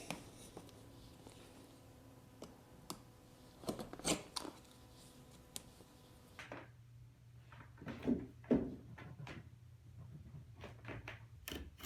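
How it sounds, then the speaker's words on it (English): Scissors or a blade snip away excess upholstery fabric stapled to a rattan cane sofa frame, a quiet indoor run of scattered short cuts, rustles and taps. "I just need to go through and cut a little bit of that excess material away so I can access the cane"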